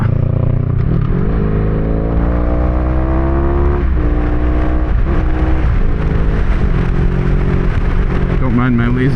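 A 1982 Honda Magna V45 motorcycle is ridden with a cheap aftermarket muffler, its loud V4 engine rising through the gears with several pitch drops at each shift, the rider's voice faintly under the roar.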